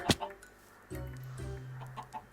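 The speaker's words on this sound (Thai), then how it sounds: "ไก่ ไก่ น้องไก่" A chicken in the Minecraft video game clucks a few times in short, fairly loud bursts, with a sharp click just before and small blips of game sound after.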